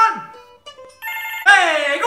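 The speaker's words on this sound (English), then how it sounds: "Somebody get the phone!" A telephone rings in a home in bursts of electronic trilling, with sharp gaps and chopped-up shifts in the tone between rings.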